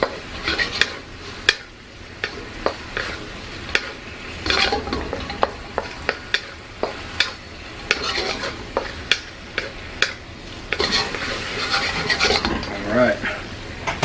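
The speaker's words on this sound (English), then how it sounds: "Give it a quick fry in the sauce" Mongolian beef being stir-fried in sauce in a wok: sizzling, with repeated sharp scrapes and clacks of a utensil against the pan at an irregular rhythm, close and loud.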